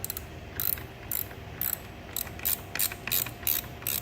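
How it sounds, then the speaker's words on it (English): A ratchet tightens the starter power wire on a Chevrolet Cruze battery, giving quick bursts of sharp clicking strokes in an irregular rhythm, close up and with no talking. "Now, tighten this starter power wire all the way down."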